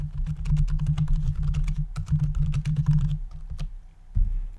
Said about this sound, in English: and then you'll type your message